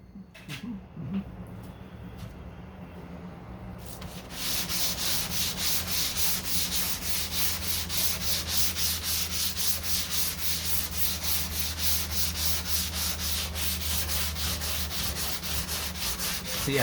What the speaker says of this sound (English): So yeah, so I'm gonna wet sand the hood a little bit, and with 220,